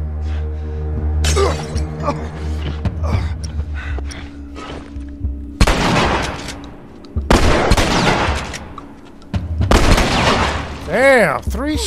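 Gunshots from The Last of Us in a university setting against bandits: several sharp, loud bursts with crackling debris in between, and a voice talking over parts of the scene.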